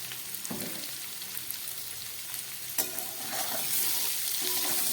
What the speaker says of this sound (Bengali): গ্যাসটা মিডিয়ামে আছে রান্না করছি সজনে ডাটা